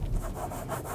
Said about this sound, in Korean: 대시보드 쪽을 긁는 소리들도 들리고요.